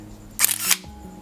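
A single mechanical camera shutter release with a quick whirring motor-drive advance, one short burst standing alone against quiet room noise.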